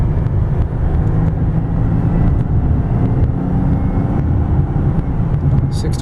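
A 2004 Mercedes-Benz E320 Sport accelerating at about 70-75% throttle, a heavy, steady low engine and road drone heard from inside the cabin, continuous and loud, with a person talking over it.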